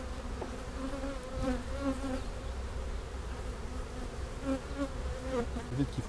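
A bee colony drones with a steady, dense buzz throughout, with individual bees passing close now and then.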